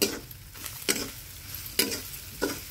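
Spices and turmeric fry in hot oil in a pan, a steady close sizzle broken by several scraping stirs.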